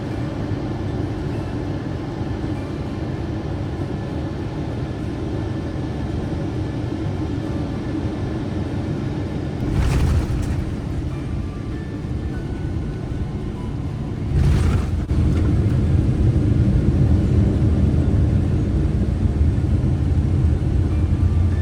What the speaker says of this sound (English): in no time we were already landing in Hong Kong.